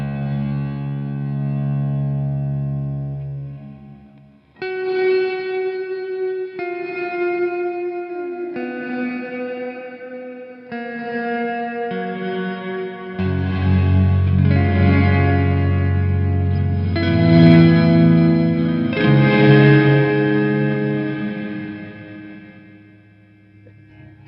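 Electric guitar played through an EarthQuaker Devices Afterneath V3 reverb pedal with the mix knob fully up: chords and notes wash into a thick, shimmering, echoing ambience that swells louder midway and keeps sustaining, with the guitar still clearly present and no voices.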